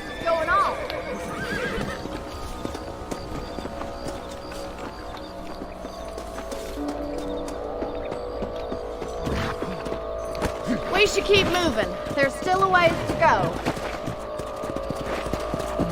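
Horses neigh and trot with steady clip-clop hooves in the Western video game Red Dead Redemption, with creaking tack and mechanical clicks underneath while someone talks over the whole scene.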